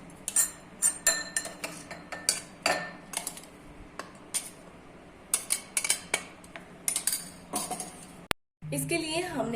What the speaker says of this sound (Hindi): अब हम इसे एक बाउल में निकाल लेते हैं।